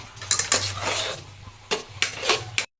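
Flour stirred into water and ghee in a pot for ukadiche modak dough, a close scraping and clinking of a spoon against the metal in several bursts, with a low steady hum underneath and no talking.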